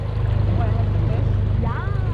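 A Tohatsu 20hp outboard engine runs on a 12-foot heavy-duty Saturn fishing boat, giving a steady low droning hum that carries on beneath people talking nearby.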